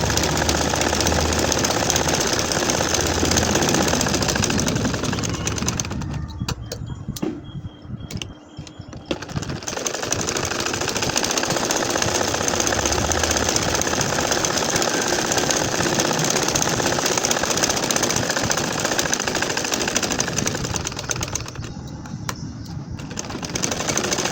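Electric sewing machine stitching lines across a nakshi kantha quilt, a steady close whirring drone that stops briefly twice, with no talking.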